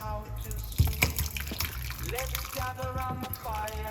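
Liquid pours and splashes steadily, with gurgling and dripping close by, while a person talks over it.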